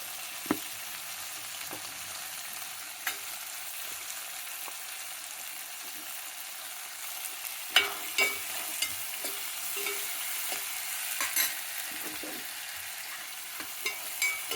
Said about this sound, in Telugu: ఇది కొద్దిగా వేగితే కొద్ది కలర్ మారాలి